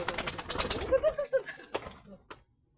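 Pigeon near its nest of two eggs in a flowerpot beside a rose plant, giving a few soft low coos in the middle of the clip after an opening burst of rustling, with brief wing flutter and fading into quiet.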